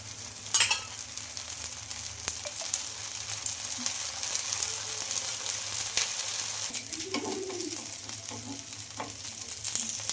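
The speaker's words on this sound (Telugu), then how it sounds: "ఇంకా మనకైతే దోశ అయితే ఫ్రై అయిందండి" A wheat flour and spinach dosa frying in oil on a pan, a steady soft sizzle with a few crackles and a clink of a utensil, close and with no voices.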